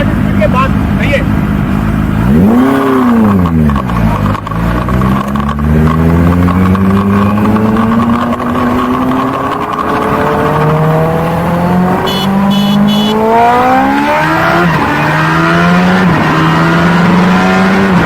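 A Suzuki Hayabusa motorcycle on the New Malir Expressway revs loudly and close by. The engine pitch climbs and falls several times as it pulls through the gears.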